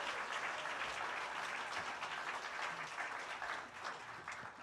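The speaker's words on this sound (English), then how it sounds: "applause for those professional musicians and what they do." An audience in a church service's Sunday gathering claps steadily for professional musicians, a dense, even applause that stays fairly quiet and distant before tapering slightly at the end.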